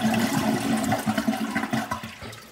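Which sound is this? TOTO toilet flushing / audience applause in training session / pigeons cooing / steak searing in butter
TOTO toilet flushing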